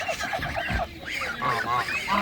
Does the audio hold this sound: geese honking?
yes